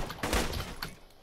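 Rapid gunfire from enemies in the video game Borderlands 2, a dense burst of overlapping shots lasting about a second, loud and somewhat distant, with no talk.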